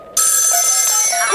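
A telephone bell rings in one sustained, loud metallic trill that starts abruptly and continues without pause.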